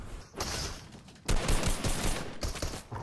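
Bursts of rapid gunfire from the Fortnite video game, several dense volleys separated by short gaps, loud and alone with no talk over them.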